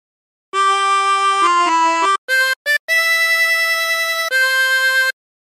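A chromatic harmonica plays the melody of Battle Hymn of the Republic alone, clean sustained reedy notes stepping through a short phrase with a couple of quick breaks between notes.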